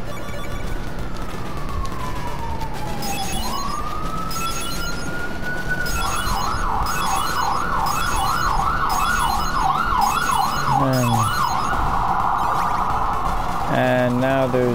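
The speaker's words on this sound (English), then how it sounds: "Now there's the ambulance." Ambulance siren in the NES game Castlevania II, rising then wailing in fast alternating sweeps over a steady tone-and-chiptune backdrop, loud and continuous, ending in stepped electronic blips.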